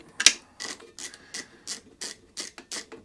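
A spark plug is worked out of a 2016 Mountfield HP45 lawnmower with a socket ratchet, giving a rhythmic series of close, crisp clicking bursts separated by short pauses.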